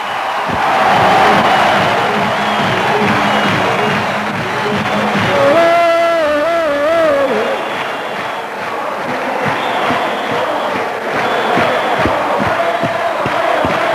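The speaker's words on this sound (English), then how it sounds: "Hands in the air, cheering, and general agreement" A large crowd roars and cheers at the Gibraltar National Day rally, a loud sustained mass of voices with a horn or siren-like tone rising midway, all continuous and close.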